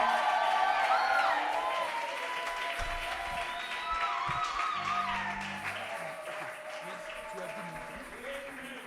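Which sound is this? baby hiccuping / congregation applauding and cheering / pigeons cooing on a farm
congregation applauding and cheering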